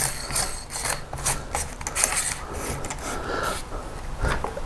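A ratchet wrench clicks in quick, uneven strokes while tightening a bolt during reassembly of the rear spring on a 2023 KTM 300SX dirt bike, close up with light metallic rubbing and no talking.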